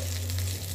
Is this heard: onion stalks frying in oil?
yes